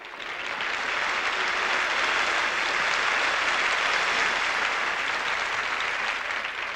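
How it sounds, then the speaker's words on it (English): Sustained applause from a large Las Vegas hotel show audience after Strauss music at a performance, a dense, even wash of clapping that swells in and holds steady throughout, with no talking. "I'd like to share your wonderful applause for the music of Strauss"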